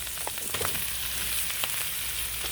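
Mushrooms fry in a pan with melted fat inside a woodland cabin, giving a steady, soft sizzle broken by scattered small pops and crackles, quiet and close, with no one speaking.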